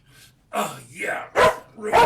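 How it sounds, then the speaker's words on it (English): A dog barks twice in quick succession, loud and close, after a brief muffled opening, with people talking over the scene. "I understand there's a dog, yes."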